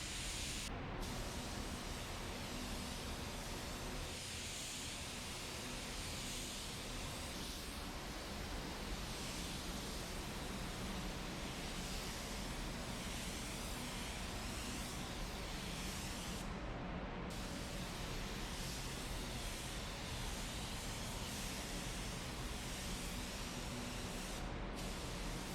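A spray gun mists base coat paint onto a '66 Chevy Nova, a steady, loud hiss of air and atomized paint that runs continuously with only brief momentary cutoffs.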